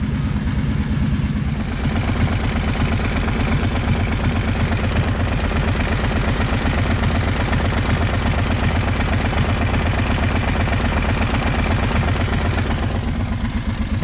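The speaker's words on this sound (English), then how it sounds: "she's starting to idle a little bit now." An engine idles steadily at close range, a low rhythmic chugging rumble with a faint clatter that continues evenly for the whole stretch.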